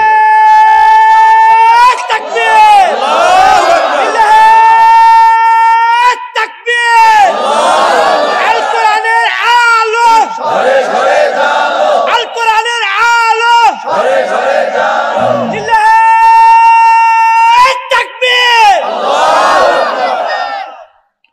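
Large crowd at an outdoor Islamic mahfil chanting the takbir in loud, repeated unison bursts, several long rising shouts with brief pauses between them, filling the whole stretch.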